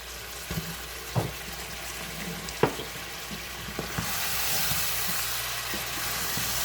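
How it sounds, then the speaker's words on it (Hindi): Potato pieces frying in a pan for Sindhi chicken biryani, a steady sizzle underneath with a few sharp clinks of a utensil against the pan, the sizzle growing louder and brighter toward the end. "इसको भी हमने थोड़ा फ्राई करना है।"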